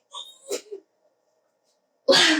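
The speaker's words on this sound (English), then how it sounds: "sorry, baby sneeze." A small, quick sneeze bursts out after a brief stretch of quiet, preceded by soft vocal sounds.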